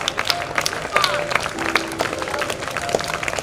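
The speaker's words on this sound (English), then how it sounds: "So please encourage them with your blessings and claps." An audience at an Easwaramma Day gathering claps and applauds, a dense steady patter of hands with some voices and crowd murmur mixed in.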